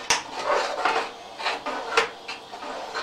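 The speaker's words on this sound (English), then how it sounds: "Stir that in real good" Chili being stirred in a cooking pot, a spoon scraping and clinking against the sides in a few irregular strokes, moderately close and without talk.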